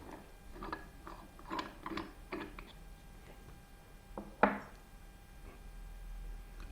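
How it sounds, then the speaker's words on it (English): Grind setting dial on an MHW-3Bomber Sniper electric coffee grinder turned anti-clockwise, giving a series of soft plastic ratchet clicks followed by one sharper click, close and quiet with no talk. "Turn the grind settings down anti-clockwise all the way."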